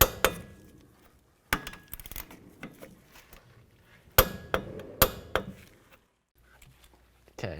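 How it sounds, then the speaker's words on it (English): A torque wrench snaps with sharp metallic clicks while tightening nuts to 85 foot-pounds on a Ford Escape during a front CV axle replacement, the clicks coming in close, separate bursts amid soft tool clatter. "now we're gonna torque it to 85 foot-pounds"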